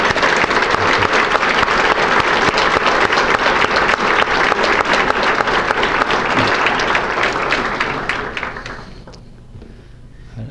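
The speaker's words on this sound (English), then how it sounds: "Let's give them a good round of applause" Applause at an Army ROTC military ball for soldiers who wear the Bronze Star: loud, dense clapping from a large crowd, sustained and then thinning out and fading near the end.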